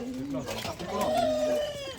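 A Kadaknath rooster at an animal shelter gives a drawn-out crow-like call, close and fairly loud, with people talking over it.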